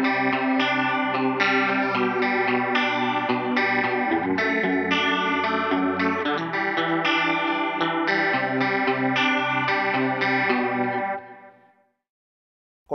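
An electric guitar runs through a POD HD 500X processor with Dimension chorus on and overdrive off, giving a clean, shimmering tone. Notes and chords ring steadily for about eleven seconds, then fade to silence.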